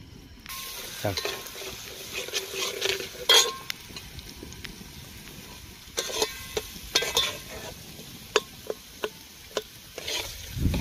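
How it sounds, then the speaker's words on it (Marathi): Mutton cooking in a pan with onion, turmeric and garlic paste at an outdoor village cook: soft steady sizzling under intermittent scraping and stirring clicks, close and fairly quiet. "आता कांदा चांगला, कांद्यात हळदी आणि ह्याच्या लसणाच्या पेस्टमध्ये आम्ही मटण शिजवणार आहेत पहिलं"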